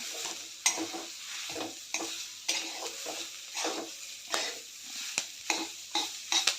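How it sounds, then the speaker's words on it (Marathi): Ground chana dal mixture stir-fried in a pan until dry, steady repeated scraping strokes of a spatula with a soft sizzle underneath, close and rhythmic, no voices. "चांगलं परतून घेऊया ओलसरपणा जाईपर्यंत परतून घ्यायचं आहे"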